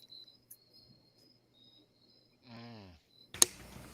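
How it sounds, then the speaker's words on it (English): Faint, thin cricket chirps repeat at intervals during a live online show, then a warbling gliding tone and a sharp bright hit follow near the end. "Crickets."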